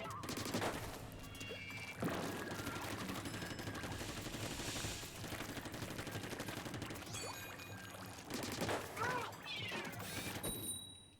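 Bamboozler sniper shots fire in Splatoon 3 during a Splatfest match, sharp bursts cracking through a dense, continuous wash of game effects and music, with heavier impacts near the start, around two seconds and again late.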